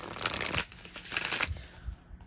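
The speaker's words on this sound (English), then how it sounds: "Now what I'm going to do is pull from these Oracle cards to see what else comes out." Oracle cards being shuffled by hand: quick papery riffles and slides in a few close bursts, ending with softer taps as cards are pulled.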